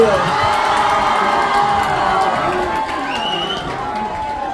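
Large crowd at a live public event cheering and whooping in a steady, dense roar that holds for several seconds, with scattered shouts rising above the mass of voices.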